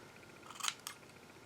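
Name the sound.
scissors cutting inside pieces for fabric flowers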